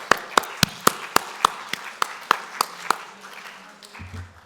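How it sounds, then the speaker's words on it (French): Scattered hand claps from a small lecture audience, about a dozen sharp individual claps spaced irregularly over three seconds, then fading out into low room noise. "On l'applaudit bien fort."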